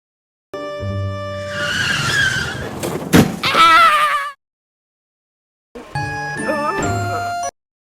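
From a TV drama, a car skids with squealing tyres and hits a pedestrian while a woman screams over the crash, loud and close, followed by a gap of silence and a brief tonal burst with more vocal sounds.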